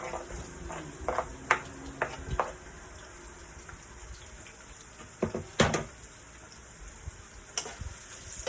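Onion frying in a pan for seafood pansit canton, a soft steady sizzle under sharp clicks and clatters of a utensil against the pan.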